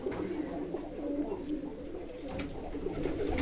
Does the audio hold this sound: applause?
no